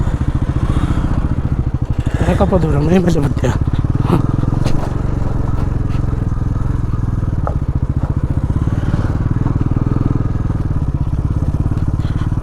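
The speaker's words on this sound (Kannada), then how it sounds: "ಯಾಕೋ ನಮ್ಮ ಬೈಕು ಸ್ವಲ್ಪ ಶಾಕ್ ಅಬ್ಸರ್ವ್ ತೆಗೆದುಕೊಂಡು ಸೌಂಡ್ ಬರ್ತಿದೆ" An off-road motorcycle with a noisy shock absorber rumbles loudly and steadily, with clattering and rattling bursts early on, and a rider talks over the engine.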